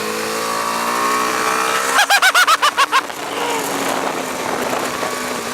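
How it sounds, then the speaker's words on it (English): A BMW G310R motorcycle pulls hard at near full throttle, its engine note rising steadily, then cutting out in a quick burst of rhythmic pulses around a shift before climbing again, loud and close with wind noise. "Almost full throttle there."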